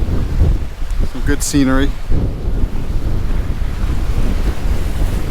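Rough sea surf breaks at a beach in Mirissa, Sri Lanka, with steady wind buffeting the microphone throughout; someone briefly speaks over the continuous roar of waves and gusts.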